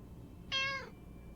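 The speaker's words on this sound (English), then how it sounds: "Oh, a cat in the bag?" Single short, clear cat meow from inside a bag in the video game 60 Seconds, close and alone over a quiet background hum.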